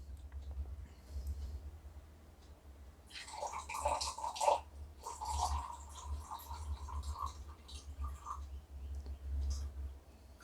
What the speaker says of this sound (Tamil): எரிமலைக்குள்ளே தண்ணியை நம்ம ஆட் பண்ணிக்கிறோம்.